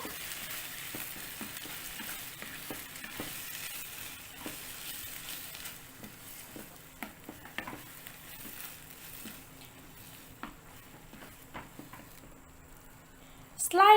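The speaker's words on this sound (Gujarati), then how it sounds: "પછી તરત જ તેની અંદર મગ ઉમેરી દેશું અને મિક્સ કરી લેવું" Mung beans go into a hot pan and are stirred, giving a soft, steady sizzle with scattered scraping taps while someone talks over it.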